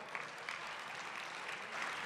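Audience applause at a folk music festival in Pennsylvania, steady dense clapping from a sizable crowd that holds at an even level throughout, fairly close and continuous with no talk over it.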